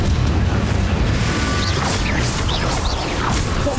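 Confringo fire spell explosions in the game Hogwarts Legacy make a dense, continuous roar of booms, crashes and whooshes. Sweeping magical tones cut through the loud battle din throughout.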